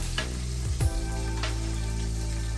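T-bone steaks with rosemary sear loudly in hot oil while being basted, a steady close sizzle with a few sharper spoon or pan knocks and no talking.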